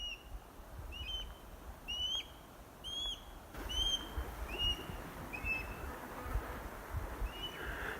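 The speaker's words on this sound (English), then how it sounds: "there is a hawk squawking nearby." A hawk gives repeated short high squawks near its nest, spaced about a second apart and fairly distant, over a steady outdoor wind and rustle backdrop on a Utah trail near Fish Lake.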